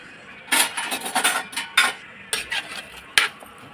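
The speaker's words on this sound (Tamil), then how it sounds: "நல்லா கலந்து விட்டுக்குங்க." A spoon scrapes and clinks against a metal pot while stirring a vegetable kootu, in irregular bursts with a few sharper knocks, close by.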